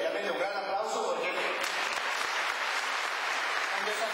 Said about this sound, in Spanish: Así que realmente un gran aplauso